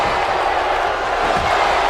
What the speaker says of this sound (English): Crowd is not loving that.